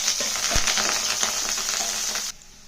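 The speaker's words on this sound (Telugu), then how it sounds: "ఉల్లిపాయ కరివేపాకు పచ్చిమిరపకాయలు కొన్ని కొత్తిమీర కాళ్ళు వేసి లైట్ బ్రౌన్ కలర్ దాకా వేయాల్సింది" Onion, curry leaves and green chilies fry in hot oil in a pan with a steady, bright sizzle and a few stirring clatters, close and fairly loud, before the sizzle abruptly drops away near the end.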